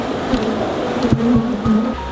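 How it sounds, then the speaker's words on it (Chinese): A swarm of honeybees leaving an overcrowded hive buzzes in a dense, continuous drone, loud and close, with a few brief knocks and handling noises over the steady hum. "这个蜜蜂呢分蜂了，都跑出来了"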